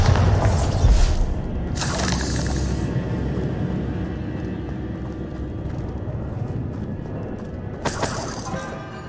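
Bombarda spell explosion in the Hogwarts Legacy video game: a deep booming blast with crackling debris at the start, a rumbling tail, and a second burst near the end.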